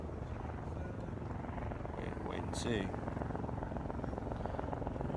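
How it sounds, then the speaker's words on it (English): Helicopter droning steadily through a street protest scene, a continuous low rotor rumble under nearby voices and crowd chatter. "I hear a helicopter."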